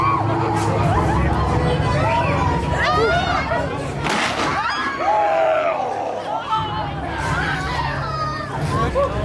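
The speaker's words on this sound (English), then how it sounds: "crowd's coming in" Crowd chattering as visitors stream in on opening night at Knott's Scary Farm 2022, a dense continuous babble of many voices with bursts of louder calls, steady and close throughout.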